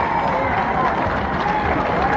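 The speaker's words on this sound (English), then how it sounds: "Give them a big round of applause" An audience at a Lonnie Lee show applauds in a steady, dense wash of clapping and crowd noise that holds at an even level throughout.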